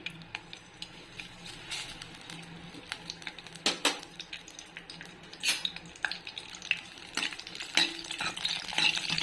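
Dried chillies and asafoetida fry in a little oil, a soft, quiet sizzle punctuated by occasional spatula taps and scrapes against the pan.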